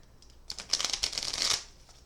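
Shuffling of a small mini Night Sun tarot deck, a soft close riffle and rustle of cards lasting about a second, with light taps before and after.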